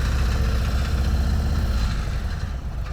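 A motorcycle idles with a steady, close low engine rumble, and its hot, loose exhaust rattles faintly under the throb. No one speaks.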